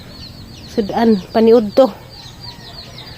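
A few short bursts of chicken clucking, close and fairly loud, separated by brief pauses over a quiet background.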